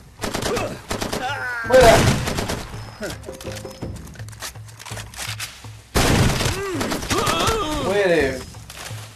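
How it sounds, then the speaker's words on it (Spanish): Bursts of gunfire in Far Cry 2, sharp cracks and short volleys arriving in clusters, loud and close, with people shouting over the shots. "¡Está disparando!"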